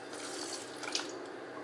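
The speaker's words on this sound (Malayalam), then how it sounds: "ഇനി നമുക്ക് നമ്മൾ മാറ്റി വെച്ച ഉപ്പ് വെള്ളം ഒഴിച്ചു കൊടുക്കാവുന്നതാണ്" Salt water poured into a tender mango pickle (kadumanga achar), a soft continuous trickle of liquid, fairly quiet and close, with a small splashy peak partway through.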